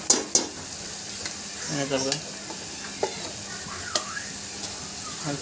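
Ground masala sizzles and fries in a pan while a spoon stirs and scrapes, with a few sharp clinks against the metal.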